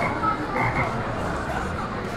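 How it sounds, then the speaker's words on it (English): A frog croaks in the video game Dayshift at Freddy's, a steady buzzy croaking held over a dense continuous bed of game sound, with no pauses. "It's a frog."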